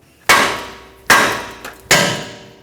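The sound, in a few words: hammer tapping steering knuckle to free tie rod stud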